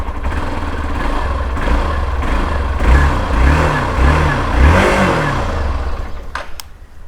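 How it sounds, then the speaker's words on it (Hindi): A Hero XPulse 200 4V motorcycle engine revs repeatedly at close range, rising and falling in several rhythmic throttle blips over a steady idle, with no talking. "ये इंजन इसका किस तरह से साउंड कर रहा है"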